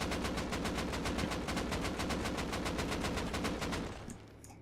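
An AK assault rifle in Rust fires one continuous full-auto burst of rapid, evenly spaced shots for about four seconds, then stops and leaves a faint tail.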